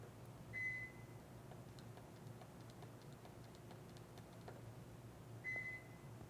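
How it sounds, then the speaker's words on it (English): A Subaru car's door keypad sounds two short, clean electronic beeps about five seconds apart, quiet against a low background hum, with faint ticking between them. "Notice it's now beeping at you."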